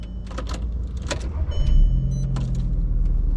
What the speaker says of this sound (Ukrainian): Запускай двигун.